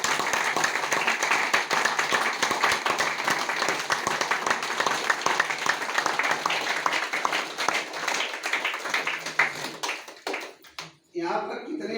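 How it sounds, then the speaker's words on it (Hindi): An audience at a meeting applauds loudly with dense, sustained clapping that thins out and fades near the end. "एक जोरदार ताली"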